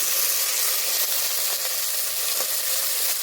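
Tomatoes and green chilies hit a pan of frying onions for mutton biryani, giving a loud, steady sizzle with crackling hiss throughout and faint stirring taps, no voices.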